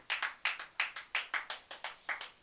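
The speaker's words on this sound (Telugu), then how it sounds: "చప్పట్లు కొట్టండి" A church audience claps hands together in a steady rhythm, about ten sharp claps spaced evenly and heard at moderate distance with no talk over them.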